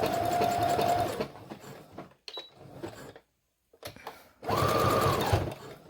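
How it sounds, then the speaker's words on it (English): A sewing machine stitches a sweater romper in two close, steady whirring runs separated by a short pause with light handling sounds. "And I'm just going to start sewing."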